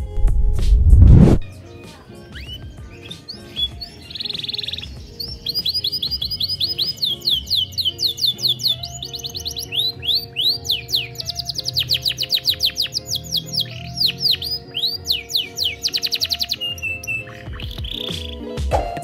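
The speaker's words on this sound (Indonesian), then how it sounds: "di Indonesia juga kenapa Yorkshire dicari bukan hanya karena posturnya, tapi juga karena suaranya yang indah" A Yorkshire canary sings close by in a long, bright song of rapid trills and chirping runs, loud and continuous after a short thump at the start, with a faint low hum underneath.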